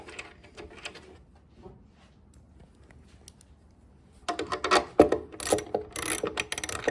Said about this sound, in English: place the washer on and then put the nut on and go ahead and tighten them up